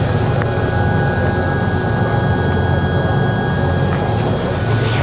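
Continuous engine drone of a Swan 88 hybrid sailing yacht motoring at 9 knots, heard with the engine room open: a steady low rumble with a faint high whine, loud and constant throughout.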